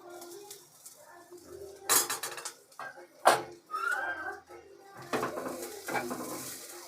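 Chopped ginger and garlic stir-fried in a pan, with intermittent metallic clinks and scrapes of a spatula against the pan, moderately close and fairly quiet, birds cooing faintly in the background.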